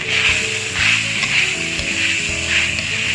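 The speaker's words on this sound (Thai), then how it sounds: "แล้วก็ทำการผัดคลุกเคล้าเลย" Long beans being stir-fried in a hot pan, a continuous loud sizzle with soft periodic tossing and stirring sounds throughout.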